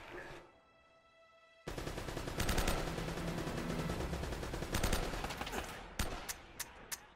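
Gunfire from Uncharted: Drake's Fortune erupts after a quiet lead-in, a dense sustained burst of shots with rattling echoes, ending in several separate sharp cracks.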